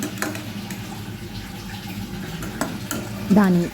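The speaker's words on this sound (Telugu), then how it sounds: "అన్నీ వేసిన తర్వాత ఒకసారి బాగా కలుపుకొని" Spoon stirring chicken fry with added spices in a pan, a soft scraping and wet mixing over a steady low sizzle, close, with a brief clatter near the end.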